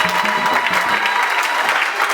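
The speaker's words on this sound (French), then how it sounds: "Applaudissons très fort pour la gloire de Dieu." Church congregation clapping together in a dense, even burst of applause, loud and close, with a few voices mixed in.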